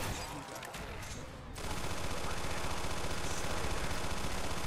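Tommy Gun firing in Black Ops Zombies, the Nacht der Untoten map, a loud sustained automatic burst that starts abruptly and runs on steadily without pause.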